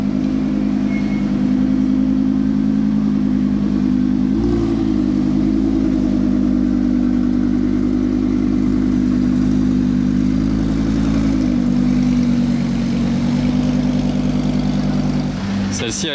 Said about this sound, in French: Celle-ci a l'échappement modifié l'autre fois, je l'avais vu et faisait un bruit énorme.